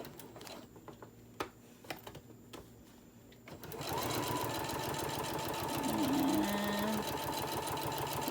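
A sewing machine top stitches a candy wrapper zipper pouch. After a few seconds of quiet handling clicks, a steady, moderately loud mechanical hum and whir runs to the end.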